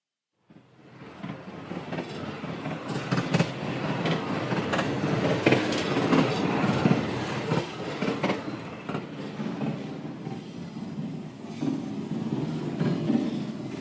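A subway train rolls steadily along, rumbling with rhythmic clacks and rattles from the wheels, continuous throughout.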